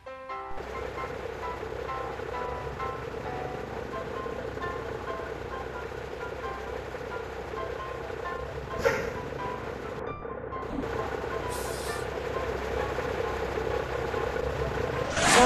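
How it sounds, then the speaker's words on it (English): Exhaust of a Hino RN285 bus in Bus Simulator Indonesia, a steady low engine drone that holds even, then swells louder toward the end, with a couple of brief hisses and clicks. "Sound suara knalpot."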